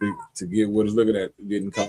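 A phone ringtone that imitates a cat's meow gives one long, drawn-out mew and then a shorter one, moderately quiet against a still room.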